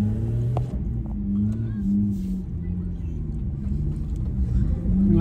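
A turbocharged Toyota IS200 engine rumbles steadily at idle at a drag strip, a low continuous drone that swells slightly toward the end, with voices talking over it.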